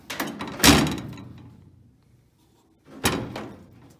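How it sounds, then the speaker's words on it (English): A 94-year-old Ford Model T's car doors open and close twice, each a solid clunk and latch thump with rattling follow-through, close up, separated by a couple of seconds of quiet. "All the doors open and close"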